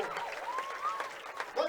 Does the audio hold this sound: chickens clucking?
no